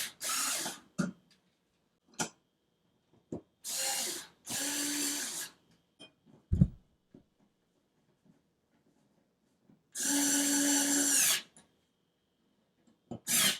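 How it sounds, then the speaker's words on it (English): A GoGonova cordless screwdriver backs two screws out of an electrical box, heard as several short motor whirs of about a second each, separated by quiet pauses and small clicks, fairly close. "I'll take the screwdriver and I'll remove these 2 screws"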